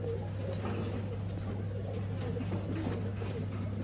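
Old-line pigeons for sale in Bangalore coo steadily through the whole stretch, a soft continuous murmur from several birds close by, with no voices over it.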